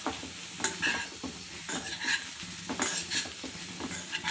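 Taro root fry with coriander powder and garam masala stirred in a pan, giving a continuous close sizzle with frequent rhythmic scrapes and light clinks of a spatula, no talking.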